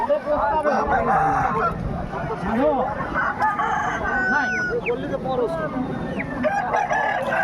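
Roosters crowing at a busy chicken market, several calls rising over a dense, loud backdrop of clucking fowl and crowd murmur, with voices talking throughout.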